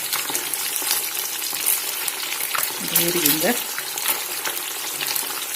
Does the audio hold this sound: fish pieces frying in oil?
yes